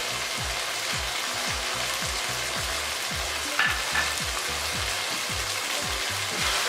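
Mutton ojhri frying in ghee with garam masala and fresh coriander, a dense, loud, continuous sizzle with rhythmic stirring scrapes, close up, with no talking.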